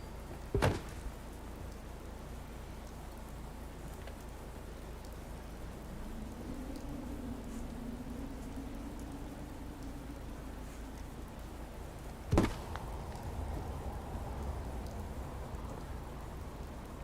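A storm with steady rain falling on a surface, a broad constant hiss throughout, with a sharp knock near the start and another around twelve seconds.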